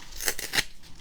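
Scissors snip through paper while cutting out craft pieces for primitive saltbox house fridge magnets, giving three quick crisp close cuts in about a second, with no talking.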